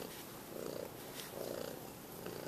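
A foster kitten purring softly and close, with a steady rhythmic rumble that swells and eases with each breath.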